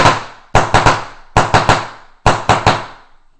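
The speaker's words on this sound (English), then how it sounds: "for every one time I pull the trigger after I get off the ramping, it's only going to shoot 1 ball" A Power G3 paintball marker fires one sharp crack, then three quick bursts of about three shots each. The shots are loud and close, with brief decays between the bursts.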